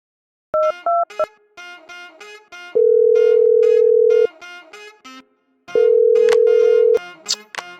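A phone call to a handset that is switched off: a few quick dial beeps, then two long steady call tones separated by shorter beeping, loud and close with no voices.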